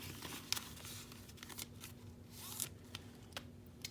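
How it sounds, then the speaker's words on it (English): Paper cash bills rustle and crinkle faintly as they are handled and slipped into envelopes, with a few soft sharp flicks of paper over a quiet room hum. "I like to put my smaller bills in front in my envelopes"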